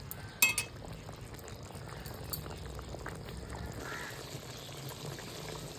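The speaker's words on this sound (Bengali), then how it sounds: "আর একটু ঝোলটা ফুটে উঠুক তারপর আমি এটাকে নামিয়ে নেব" Bengali prawn curry gravy simmers quietly in a pan, with soft, faint bubbling and a single metallic clink near the start.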